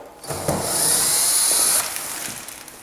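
Screws being removed from the top of an inner box in a wooden clock case, with a steady whir lasting about a second between soft scraping knocks, close and moderately loud.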